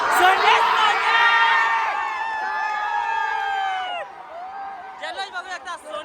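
Spectators at a bullock cart race cheer a win with loud, sustained whoops and long shouted calls, followed by a burst of rhythmic chanting.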